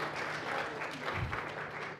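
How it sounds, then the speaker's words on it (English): An audience at a talk applauds in a brief, steady wash of clapping at moderate, slightly distant level. "Again, a round of applause."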